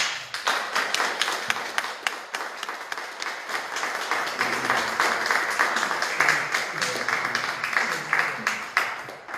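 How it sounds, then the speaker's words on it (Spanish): A conference audience applauds a doctor after her keynote lecture at a writers' gathering, with steady, sustained clapping from many hands that fills the whole stretch and carries no speech. "Un fuerte aplauso a la doctora Elizabeth Martínez Bonabad por esta conferencia magistral"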